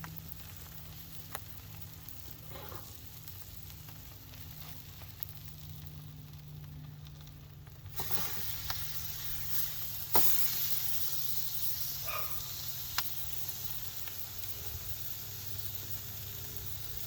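A 6 lb 2 oz steak roasts in a wood-fired oven, its steady hiss and sizzle running throughout and growing louder about halfway as it is flipped, with faint scattered knocks and no talking.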